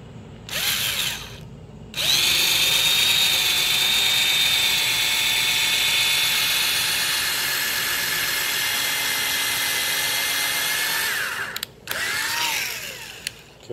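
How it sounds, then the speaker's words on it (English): Power drill boring a pilot hole in wood while building a swing set, with a short burst, then a long steady high whine that fades before two brief closing bursts. "that's where I will drill a pilot hole"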